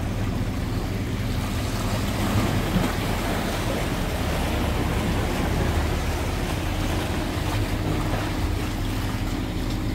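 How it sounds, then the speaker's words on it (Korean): Waves roll in along a fishing spot for mackerel after a passing boat, a continuous washing and sloshing of water with steady wind-like noise throughout, fairly close and uninterrupted by any voices. "파도가 밀려오고 있습니다"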